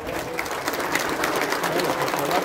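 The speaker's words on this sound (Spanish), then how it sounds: "Un aplauso" Crowd at a municipal aid-distribution event in Pénjamo breaking into applause, a continuous wash of clapping filling the short stretch with voices faintly mixed in.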